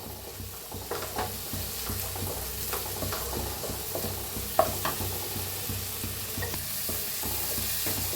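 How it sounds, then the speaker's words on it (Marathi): Spinach paneer masala stirred and roasted in a pan, a soft steady sizzle with light spoon scrapes and clinks at close range, no talk over it. "आता मिक्स करून भाजून घेऊया"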